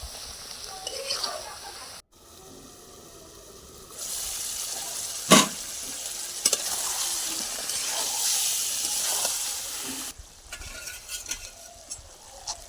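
Chicken pieces sizzle and hiss in a pan as they are stir-fried for a Bengali-style curry. The frying noise comes in long stretches, broken by brief scraping and stirring sounds and a short sharp clack.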